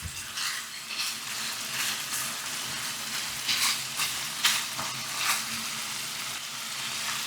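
Cabbage is tossed in a hot pan with soy sauce and toasted sesame oil, giving a constant close sizzle with irregular stirring scrapes, no talking.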